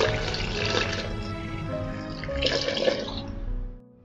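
Full fat cold milk poured from a cup into a jar holding vanilla ice cream, a steady liquid gurgle and splash lasting a few seconds before tapering off.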